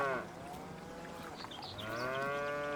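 Dairy cows in farm sheds moo loudly and close by, one long low call fading out, followed by another rising moo near the end.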